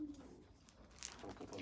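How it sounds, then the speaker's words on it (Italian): A courting pigeon coos near a female, soft low throaty calls under faint background noise, with a brief sharp sound midway. "C'è il piccione Tonino che fa chiasso perché corteggia una picciona"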